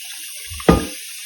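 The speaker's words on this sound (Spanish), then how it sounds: "le paso agua fría porque si no me va a calentar" Cold tap water runs briefly over raw fish for ceviche, a short rushing splash in a sink after a quiet lead-in, heard alone without talk.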